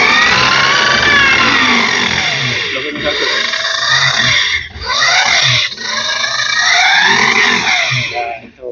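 A Honda CUV-e electric scooter motor, a 2025 model, whines loudly and close as the throttle is twisted, its pitch rising and falling in sweeping waves with brief dips.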